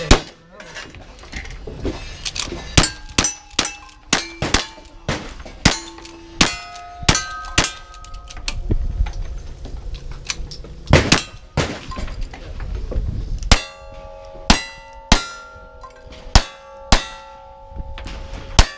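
Pistol shots strike steel targets in a rapid string of sharp metallic clangs and pings with ringing tails, shot after shot, the later hits in a steadier rhythm, with faint background voices between them.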